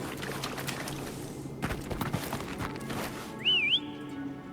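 In the video game Wuthering Waves, a short rising-and-falling whistle tone sounds clearly near the end. It follows a stretch of busy in-game ambience with thumps and rustling.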